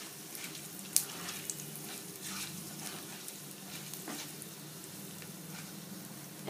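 Asafoetida, about two pinches, sizzles steadily in hot oil while a pumpkin sweet-sour sabzi is being cooked, giving a continuous moderate frying hiss with a few small sharp pops and no talking.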